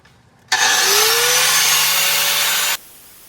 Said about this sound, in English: Kind of grind this down some, and my super cheap Amazon grinder.